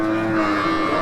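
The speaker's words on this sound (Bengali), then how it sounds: "কি জাতের গরু এটা? জার্সি ভাই। Jersey cross." A Jersey cross cow moos at a busy cattle market in Bangladesh, one steady, close, loud drawn-out call filling the moment against the crowd's background murmur.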